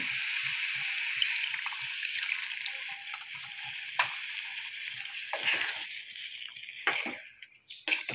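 Chicken pieces for gravy chicken sizzle softly in a pan, a faint, steady hiss close by with a few stirring scrapes and wet spatters, no talk.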